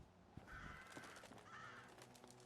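Crows caw twice in Fallout, hoarse calls at moderate distance over a soft ambient rumble as evening falls.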